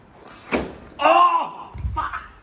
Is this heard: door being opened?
yes